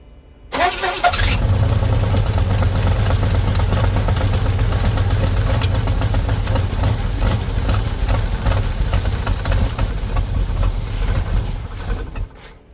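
A 1977 Pontiac Formula Firebird, a barn find parked for years, cranks and fires up, then runs steadily at a loud, rough idle close by for about eleven seconds before cutting off.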